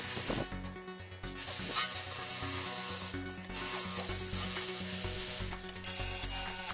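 A power polisher with a wool pad works over old paint on the rear bumper of a 1972 VW Bus. It makes a continuous close rubbing whir with surging, fluctuating pitch and no voices.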